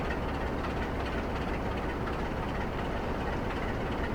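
A train rolls along in the Trainz game on a Scottish East Coast Main Line dock route, a steady low rumble of engine and wheels that stays even throughout with no talk.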